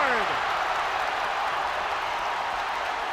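Arena crowd at an Arkansas Razorbacks basketball game against Alabama in Fayetteville erupting in loud, sustained cheering and applause, a dense, unbroken roar throughout, with a brief whistle-like sweep at the start.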